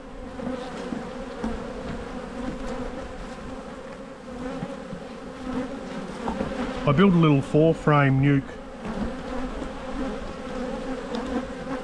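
Honey bees hum steadily at an open spring hive whose colony is short of food, a close, continuous drone under a voice.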